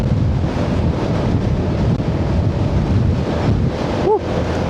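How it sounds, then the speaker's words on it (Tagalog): Strong wind roars steadily across the microphone while riding a Honda ADV160 scooter on a cold mountain road, a dense unbroken rush that stays loud throughout with a brief tonal chirp near the end. "Lakas ng hangin."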